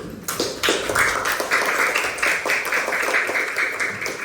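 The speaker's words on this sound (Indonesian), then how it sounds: "Kita beri tepuk tangan dulu." A classroom of students clapping together for a teacher, a dense, fairly loud burst of many hands that keeps going steadily to the end.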